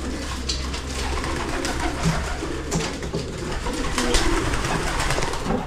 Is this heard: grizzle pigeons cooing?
yes